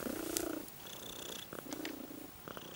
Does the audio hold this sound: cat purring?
yes